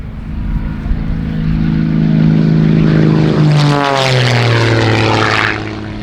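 A Rebel 300 aerobatic propeller plane performs an airshow display, its engine roaring loud and close, then sweeping past with a sharp falling pitch as it flies by and recedes.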